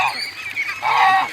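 Geese honking nearby outdoors, escorting ducklings back from a swim: a short burst of loud, nasal honks that rise and overlap, close and clear.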